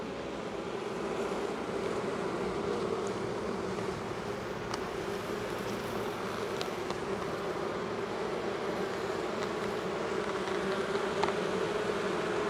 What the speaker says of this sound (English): There's a whole bunch of bees down there.